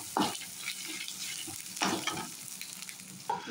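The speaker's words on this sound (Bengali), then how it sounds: "এখানে মাছ ভাজার তেলটাতে রসুন পেঁয়াজ লঙ্কা কুচিয়ে দিয়ে দিয়েছি" Chopped garlic, onion and chili sizzle and fry in oil left over from frying fish, with loud crackling bursts as the pan is stirred, and a steady hiss in between.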